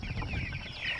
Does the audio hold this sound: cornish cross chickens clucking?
yes